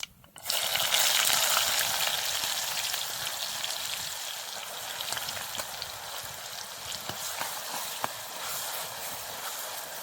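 Onion paste sizzles in hot oil with cumin, a sharp hiss that bursts in loudly as it hits the pan and then settles into a steady, crackling fry, close by.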